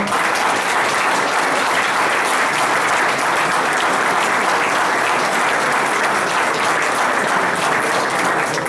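Sustained audience applause for Olimpia Alcántara, a schoolteacher, as a dense, even wash of clapping that keeps a constant level throughout with no talk over it.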